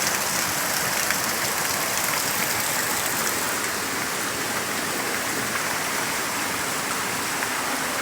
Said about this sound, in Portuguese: Olha a belezura dessa cachoeira